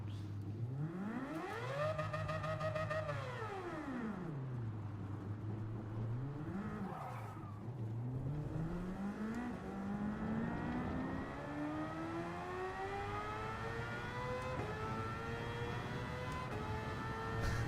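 A race car in Gran Turismo 7 roars through continuous engine revs, rising and falling through gear changes, with tire squeal through corners, loud and sustained without pause.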